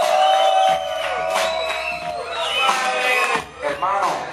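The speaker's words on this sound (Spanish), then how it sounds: "Este aplauso es para este hermano" A crowd at a nightclub concert in Maracay cheers and shouts with whoops and excited voices, loud and close, in uneven bursts that rise and dip.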